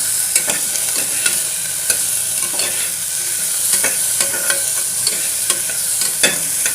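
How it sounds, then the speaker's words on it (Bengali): Cauliflower is stirred and lightly fried in a Prestige pan, with a steady close sizzle under repeated scraping strokes of the spoon, all without talk. "ফুলকপিটা ভালোভাবে একটু নাড়াচাড়া করে নিই"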